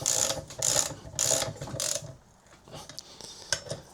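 A ratchet clicks in quick bursts while fastening nuts on a Kawasaki Versys 1000 SE motorcycle during a chain replacement, with sharp repeated clicking strokes followed by quieter mechanical handling.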